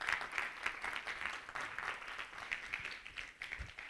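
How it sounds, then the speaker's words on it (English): Conference delegates at a UN replica event give a round of applause, a soft, steady patter of many hands clapping heard from a distance. "Guys, a round of applause."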